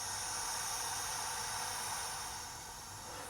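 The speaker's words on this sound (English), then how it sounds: "there's the pink noise." Pink noise from an XVIVE AT-1 signal generator runs as a constant broad hiss, steady and fairly quiet, with no other sounds on top.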